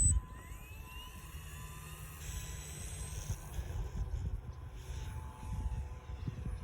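An airplane taking off, its engine drone steady and broad from a moderate distance, with a rising tone and a brief shift partway through, heard outdoors with no talking.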